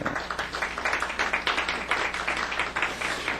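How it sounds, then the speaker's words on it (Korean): A church congregation applauds during a Sunday sermon, a dense, steady wash of many hands clapping at once that fills the room evenly for a few seconds with no voice rising above it. "남성 여러분, 우리 위대한 여성들을 향해서 박수를 한번 보내주세요"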